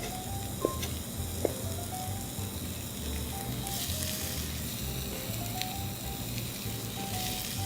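Onion sautéing in a pan, a steady close sizzle and hiss that runs throughout with a few light clinks of utensils and faint background tones, no talk.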